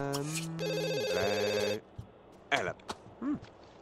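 A telephone rings in The Sims 2 video game, an electronic trilling ring lasting under two seconds, followed by brief game sounds and a voice speaking.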